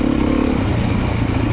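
A used 2024 Beta demo motorcycle's engine gives a steady, close, rough drone at an even throttle for the brief moment, with a slight rattle in the tone.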